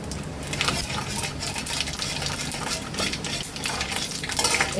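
Dried red chillies and five-spice seeds frying in hot oil for a bottle gourd shukto, a continuous crackling sizzle with scraping and stirring of a spoon in the pan, close and steady throughout.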